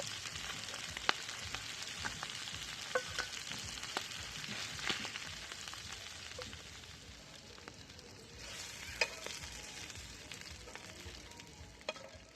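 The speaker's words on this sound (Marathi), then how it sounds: "ह्याच तव्यामध्ये परत राहिलेली तळून घेते" Fish shallow-frying in oil on a flat iron griddle, a steady crackling sizzle that fills the whole stretch, with occasional sharper pops and spits rising over it; no voices.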